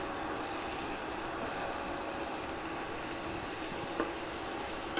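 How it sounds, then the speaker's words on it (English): Cauliflower and carrots sauté in a pan for a vegan shrimp fried rice, giving a steady, even sizzle that holds at the same level from start to finish, with no voices over it. "we'll continue to let this saute and soften"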